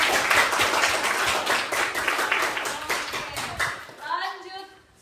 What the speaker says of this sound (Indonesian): Berikan tepuk tangan untuk si Queen